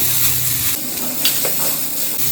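Grated coconut sautéed in a pan for a Chettinad paneer gravy, a close, loud hiss and sizzle with light stirring scrapes.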